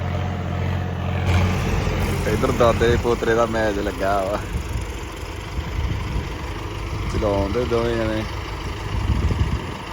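Arjun and John Deere tractors idle together with a steady low engine rumble running throughout, while someone talks over it for most of the stretch.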